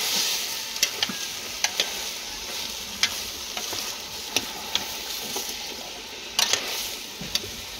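Chopped chayote stir-fries with chicken liver and gizzard in a hot pan, giving a steady close sizzle broken by scattered sharp scrapes and clinks of the spatula, with no one speaking.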